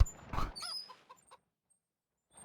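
Chickens in Farming Simulator 25 give a short burst of clucking near the start, followed by a few soft clucks and then near silence, with a faint sound returning at the very end.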